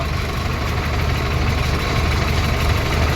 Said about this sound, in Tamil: இன்னொரு வண்டி வருது